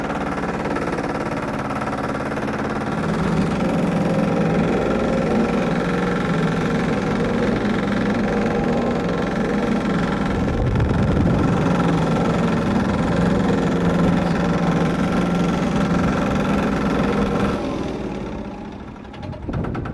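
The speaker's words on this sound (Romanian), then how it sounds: "Îl accelerăm, îl accelerăm, îl accelerăm ca să poată să lucreze motorul." The diesel engine of a Batmatic double drum vibratory compactor runs loud and close, a steady throbbing roar that swells as it is revved, then drops away near the end.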